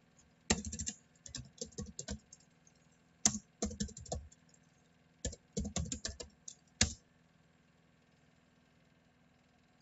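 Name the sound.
typing a command on a computer keyboard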